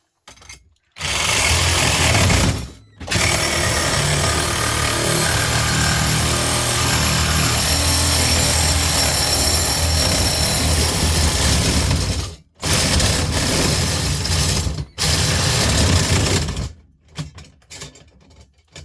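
A saw blade meant for light metal grinds through the stainless steel of a gas torch, producing a loud, harsh, continuous rasping with a few abrupt pauses before it trails off near the end.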